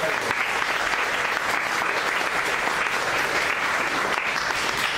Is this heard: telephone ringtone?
no